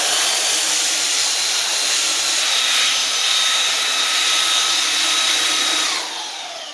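A power sander fitted with 40-grit paper grinds down a large wood cross section, producing a loud, steady, continuous whir that holds level before dropping off near the end.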